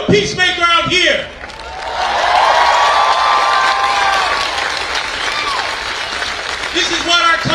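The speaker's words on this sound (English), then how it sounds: "Clap it up, everybody, if you're a peacemaker out here." Crowd at a March for Our Lives protest against gun violence clapping and cheering, a loud sustained wash of applause and shouts, with a voice leading chants through a loudspeaker at the start and end.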